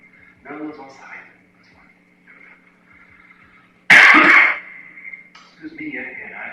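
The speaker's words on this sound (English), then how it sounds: "I apologize for coughing on camera" A man coughs once, loud and sharp, right at the microphone during a quiet indoor stream, with a steady electronic hum and muffled speech before and after.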